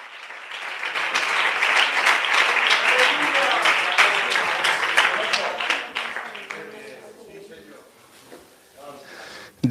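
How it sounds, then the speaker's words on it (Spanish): A church congregation claps loudly and continuously, applause swelling and then fading out near the end, during an energetic Spanish-language sermon. "Aplauda a Dios"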